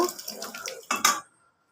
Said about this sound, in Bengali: এবার আমি ডাল দিয়ে দেব